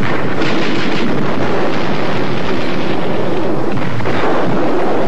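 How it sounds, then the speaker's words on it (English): A film cannon fires in a sustained, dense roar of booming blast and rumble that fills the whole stretch at high loudness, with no talk over it. "They shot it through a cannon?"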